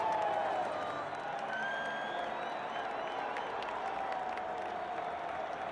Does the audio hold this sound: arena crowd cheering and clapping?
yes